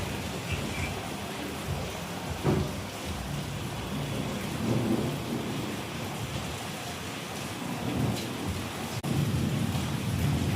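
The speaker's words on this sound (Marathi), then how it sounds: "बाहेर मस्त पाऊस पडतोय" Heavy rain pours steadily outside, a dense, continuous roar at moderate distance with faint rumbles of thunder underneath, and no one speaking.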